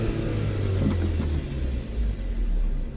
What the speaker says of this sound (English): the Cobalt runs and drives